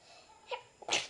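A single sharp human sneeze, close and fairly loud, preceded by a softer breathy intake or partial sneeze moments earlier.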